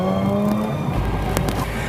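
Mazda RX-8 with a 1.3-litre rotary engine of almost 250 horsepower, a steady close engine drone with a deeper low-end rise partway through, alone without talk.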